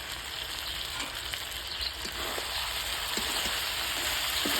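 Whole garlic cloves sizzle in hot oil in a pan for an Assamese-style mutton curry, a loud, steady close frying hiss with faint stirring clicks and no talk.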